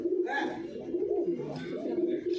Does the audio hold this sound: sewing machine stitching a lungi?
no